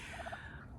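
Chickens being released into a garden give a short run of soft, low clucks over steady outdoor background noise, brief and fairly faint.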